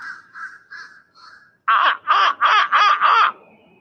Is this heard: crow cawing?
yes